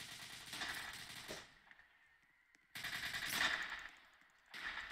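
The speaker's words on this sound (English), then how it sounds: "Shots fired." Rapid automatic gunfire bursts in a Roblox ERLC police shootout, two loud sustained volleys separated by a short quiet gap, with a third burst starting at the end.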